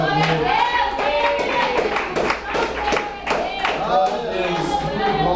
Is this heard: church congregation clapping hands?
yes